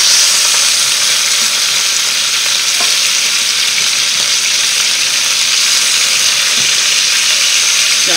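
Chicken pieces cooking in a pan for a coconut curry sizzle loudly and continuously after being turned over, a dense steady frying hiss heard up close with no talk.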